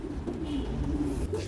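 Silver meat pigeons, a French meat pigeon breed, coo in low, throaty rolling calls that run continuously for a moment, close by, with no talking.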